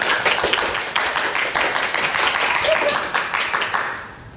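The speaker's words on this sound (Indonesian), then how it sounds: "Mari kita beri tepuk tangan terlebih dahulu teman-teman." A school expo audience claps after a creative dance performance, a dense, steady patter of hands fading at the end, close and fairly loud, with voices mixed in underneath.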